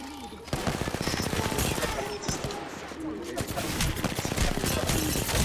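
Rapid automatic gunfire bursts and scattered shots in the battle royale game Apex Legends, loud and nearly continuous with dense rattling volleys throughout, while players talk over the action.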